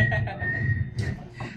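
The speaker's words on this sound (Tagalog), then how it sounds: "Pagdating pa lang po namin, may sumisipol talaga." Someone whistles a steady note through ongoing background chatter and crowd noise, the tone running under the voices for most of the moment.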